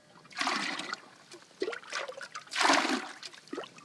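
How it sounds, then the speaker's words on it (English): Salty, undrinkable water sloshes and splashes into a metal pannikin out in the bush, in a few short close gurgling pours with brief gaps between them. "So just fill up the pannikin here and straight on the fire."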